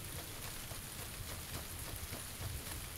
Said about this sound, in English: The rain is actually pretty cool.